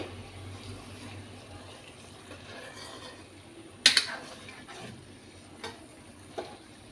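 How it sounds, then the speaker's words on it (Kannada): Fried eggs stirred into masala on a tava, giving soft scraping and a faint sizzle, with one sharp clatter of a spatula against the pan midway and a few lighter knocks after. "ಫ್ರೈ ಮಾಡಿದ ಮೊಟ್ಟೆಯನ್ನು ಹಾಕ್ಕೊಂಡು ಚೆನ್ನಾಗಿ ಮಿಕ್ಸ್ ಮಾಡಿಕೊಳ್ಬೇಕು"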